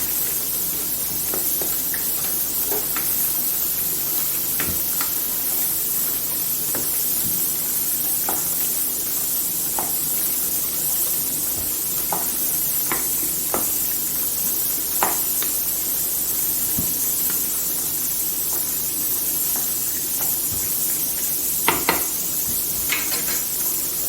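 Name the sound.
beef karahi being sautéed in a wok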